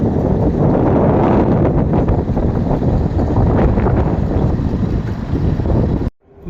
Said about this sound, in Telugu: ఇసుక తుఫాన్ లేసింది ఇక్కడ ఫుల్ అంటే ఫుల్ గాలి పెడుతుంది